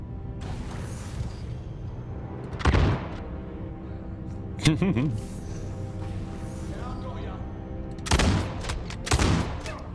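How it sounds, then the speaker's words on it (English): In the Star Citizen video game, an Arlington rifle fires in shotgun mode: loud, punchy blasts spaced a few seconds apart, some with mechanical clacks and rattles following the shots. "Alright, shotgun mode for the Arlington rifle."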